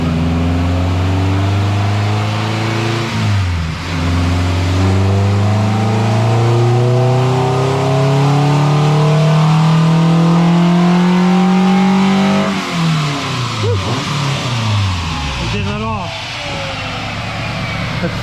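A Honda Integra with a B20V engine revs hard on a dyno, its loud, steady note climbing through long sweeps then dropping and rising again, with voices heard faintly underneath.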